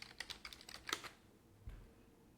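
Quick bursts of computer keyboard typing, a rapid cluster of keystrokes entering a location, close and fairly quiet, then a single soft thump and stillness.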